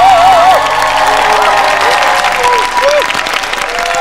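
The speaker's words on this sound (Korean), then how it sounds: "많은 사람들이 환호를 보내죠" A concert audience applauds and cheers a young trot singer's performance, with a dense, steady wash of clapping and scattered cheers that stays loud throughout, while faint tonal vocal sounds drift over it.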